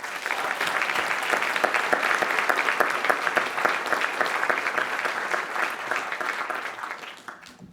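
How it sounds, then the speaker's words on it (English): Audience applause for newly published authors on a panel show, a dense steady clapping that stays strong for about seven seconds and then tapers off quickly at the end. "Give them a round of applause."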